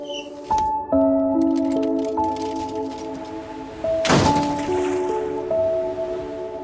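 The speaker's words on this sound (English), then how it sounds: "Can you open the sliding door?" A sliding door opens in a Family Guy cartoon scene, a brief whooshing thunk midway through over sustained background music tones.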